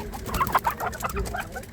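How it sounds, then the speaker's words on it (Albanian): Roosters and hens cluck and squawk in a quick, busy flurry at close range in the poultry section of a Saturday market in Rahovec, with several birds calling over one another. "Kjo pjesa e gjelve e shpesve."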